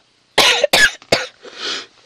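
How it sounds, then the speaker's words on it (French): One person coughs close to the microphone, three sharp hacks in quick succession followed by a softer breathy rasp. "je vais vous mettre en pause juste une seconde, le temps de tousser"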